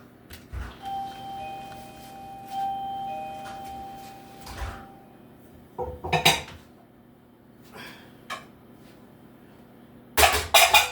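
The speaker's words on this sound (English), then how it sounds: "to take out those dishes up there" Heavy dishes being taken out of a cabinet during an infestation cleanout, with sharp ceramic clinks and clatters scattered across the clip and a loud cluster of rattling at the end.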